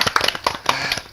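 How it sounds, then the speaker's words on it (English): A tech-talk audience gives a speaker a quick round of applause: dense, close clapping from many hands that stays busy and steady for about a second, with no talk over it. "if we could all give Jason a quick round of applause"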